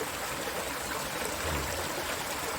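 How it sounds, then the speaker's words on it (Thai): A natural stream flows steadily in an outdoor rural setting on a quiet morning, a soft continuous wash of running water with no other distinct sounds. "มาฟังเสียงน้ำไหล"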